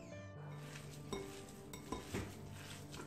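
Pide dough ingredients mixed with cumin and salt in a bowl, a few soft clinks and scrapes of a utensil against the bowl over a quiet, steady kitchen background.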